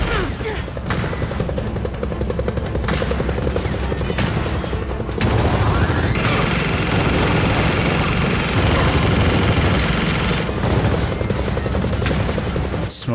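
Sustained gunfire from the Gears of War 4 video game, loud and dense, with rapid bursts and booms merging into a continuous barrage that intensifies partway through.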